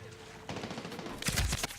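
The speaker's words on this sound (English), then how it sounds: "But I guess I should just start shooting stuff." Gunfire in the video game Medal of Honor: Warfighter starts after a quiet moment and builds into rapid bursts of shots with heavy low booms.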